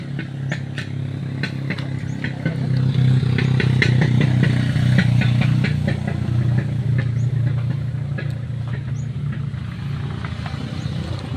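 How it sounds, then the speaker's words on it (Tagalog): Motorcycle engine running steadily nearby, a continuous mid-pitched drone with light mechanical clatter throughout, no talk over it. "Motor. Motor. Motor yan."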